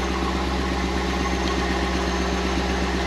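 A Corvette engine idles just after a harmonic balancer install, a steady close rumble with an even vibrating pulse and no pauses.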